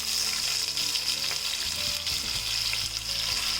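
Elephant foot yam pieces sizzle and fry with cumin seeds in a pan over a medium flame, a steady close hiss with faint scraping from stirring.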